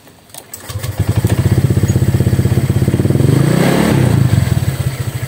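A Honda Click 125 scooter's engine cranks and catches, settling into a steady, close, loud idle with a rapid regular pulse for several seconds. Nobody speaks.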